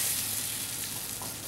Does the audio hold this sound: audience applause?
no